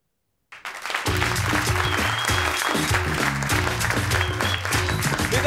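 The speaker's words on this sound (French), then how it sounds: "on l'applaudit bien fort" Comedy club audience bursting into loud, sustained applause after a short silence, dense clapping mixed with some cheering and music underneath, holding steady to the end.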